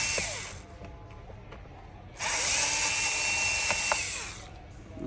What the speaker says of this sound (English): Okay, you take out the screws.